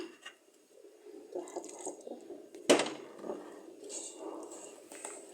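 Warm water is poured from a cup into a yogurt dessert mixture, giving a soft, close trickle and splash that rises briefly and then settles into gentle liquid movement, with no talking.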